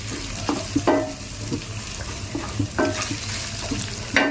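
Ginger garlic paste frying in oil for munanam fish pulusu, a moderate sizzle with scattered clinks and scrapes of a spoon stirring in the pan, no voices.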